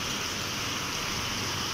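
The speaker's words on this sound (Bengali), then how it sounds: "সো বৃষ্টি নেমে গেছে দেখো" Steady rain falls outdoors in Bangalore, a constant even hiss with no breaks and no voices.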